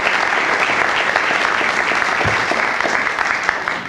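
Steady applause from an audience at a county and YMCA grant event at the Route 9 Library and Innovation Center, a dense, continuous clatter of many hands that stays loud and even throughout with no talking.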